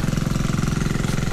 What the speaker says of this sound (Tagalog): Dalawang makina na yan.